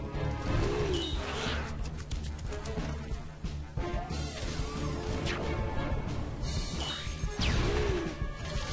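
Birds in the video game Costume Quest, with cooing, pigeon-like calls and swooping cries repeating a few times among crashing battle effects and game music, loud and close.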